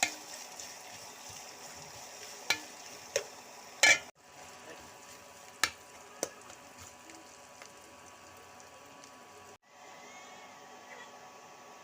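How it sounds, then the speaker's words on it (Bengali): Onions frying red in oil in a pan after fish has been fried, a steady low sizzle with a few sharp clinks of a utensil against the pan, fairly quiet throughout with no talking. "পেঁয়াজটা আমার লাল হয়ে ভাজা হয়ে গেছে"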